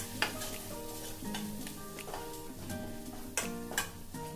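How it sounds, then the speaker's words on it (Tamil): Spoon stirring chili, coriander and garam masala powders into a pan for bottle gourd curry, with a soft sizzle and scraping strokes repeating close up, no voices. "இதெல்லாத்தையும் நல்லா கலந்து விட்டுடலாம்."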